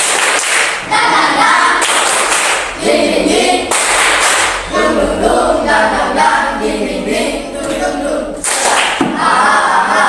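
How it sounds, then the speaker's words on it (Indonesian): A standing group of elementary school pupils performs a rhythmic spirit clap in a classroom, with bursts of patterned clapping and thuds, some voices chanting along, loud and close throughout. "Tepuk semangat."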